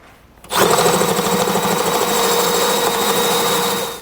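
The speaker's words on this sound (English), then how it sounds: "We're going to be using a step bit to do so." A step bit drills through the steel frame of a 2016 Subaru Outback wagon to open a hole for a trailer hitch receiver. Loud, steady whine and grinding that starts abruptly and runs alone for several seconds.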